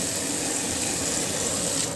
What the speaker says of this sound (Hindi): इसमें बहुत ही ज़्यादा छीटा मार रहा है